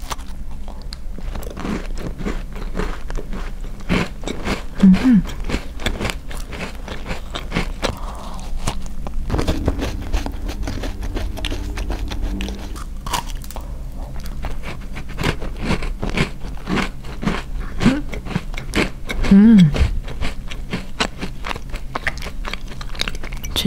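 Crunchy bakery cookie from a Korean bakery being bitten and chewed up close, repeated crisp crunches in an uneven rhythm with soft mouth sounds between bites.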